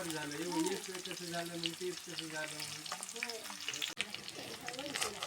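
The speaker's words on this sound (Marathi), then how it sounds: "चांगला कांदा भाजून घ्या तळून घेऊया" Chopped onion sizzles and fries in hot oil in a pan while being stirred, a steady crackling hiss throughout, with someone speaking over it at close range.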